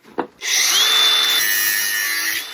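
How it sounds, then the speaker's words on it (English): An angle grinder cuts through metal with a loud, sustained high-pitched whine that starts abruptly after a brief knock and runs steadily for about two seconds, close by. "we're gonna cut this right here at the grinder"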